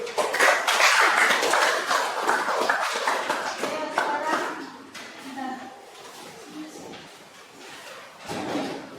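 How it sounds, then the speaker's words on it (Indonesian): Classroom audience clapping after a student group's presentation at SMPN 2 Bunga Mayang, a dense burst of hand claps that is loud at first, then thins and fades with a brief renewed flurry near the end. "Kita beri aplaus terlebih dahulu"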